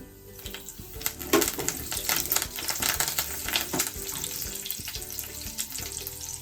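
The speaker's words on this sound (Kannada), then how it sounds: "ಕರಿಬೇವು, ಒಣಮೆಣ್ಸಿನ್ಕಾಯಿ ಹಾಕ್ತಾಯಿದ್ದೀನಿ." Mustard seeds, curry leaves and dry red chillies frying in hot oil, with sharp spluttering pops and crackles over a continuous sizzle, close and moderately loud.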